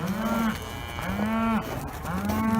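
Cows mooing in a steady series, about three long, low calls back to back, fairly close and loud.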